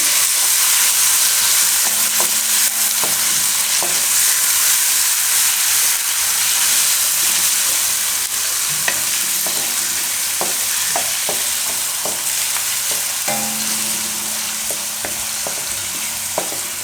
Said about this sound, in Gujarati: થોડીક વાર ફેરવી લેવાનું આમાં.